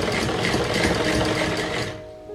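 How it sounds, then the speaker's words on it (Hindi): Electric sewing machine stitching a small baby cap, running in a steady fast chatter of needle strokes that slows and stops near the end, close and alone. "यहाँ से रखकर सिलाई करेंगे।"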